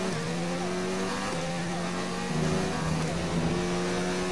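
Formula 1 car with a Renault engine racing in the F1 2019 video game, a steady high engine whine with sustained harmonic tones that shift slightly in pitch, loud and continuous, with a rise in intensity past the midpoint.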